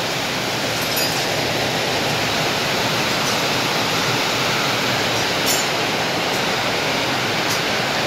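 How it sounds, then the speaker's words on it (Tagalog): Heavy rain pours down in a constant, dense roar, loud and unbroken throughout with no voices over it. "Grabe ang ulan."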